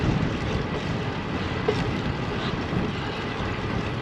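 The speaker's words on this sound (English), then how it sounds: "Got some headwind." Steady, loud wind roar buffets the microphone while cycling into a headwind on a road ride, a continuous broadband rush with no pauses and no talking.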